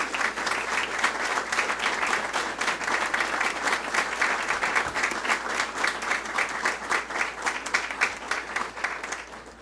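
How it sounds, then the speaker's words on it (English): Audience applause at a hospital ribbon cutting ceremony honoring auxiliary volunteers: a dense, steady round of clapping from a large crowd, sustained for about ten seconds and tapering slightly at the end. "give them a round of applause"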